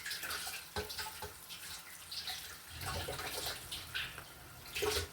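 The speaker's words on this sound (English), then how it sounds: "Go ahead and run cold water while you do it." Cold water running from a kitchen tap into a sink, a steady hissing splash throughout with a few brief louder splashes, close and fairly quiet with no voices.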